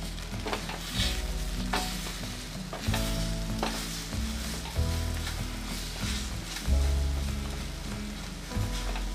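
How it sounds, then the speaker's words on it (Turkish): Egg being stirred into murtuğa in a hot pan, with a soft sizzle under repeated scraping stirs and periodic heavier knocks of the spoon against the pan, no voices. "karıştırarak yumurtasını yedirmeye çalışıyoruz"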